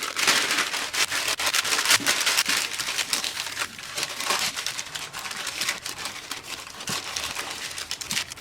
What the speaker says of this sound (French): on beurre le moule et on y place la feuille de papier sulfurisé